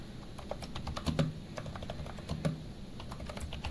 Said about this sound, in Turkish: Acele etmeden yazalım yoksa hata yapabiliriz.